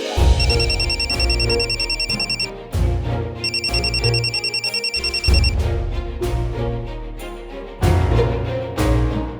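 A telephone ringing in repeated electronic bursts, two long rings separated by pauses, over background music or tones.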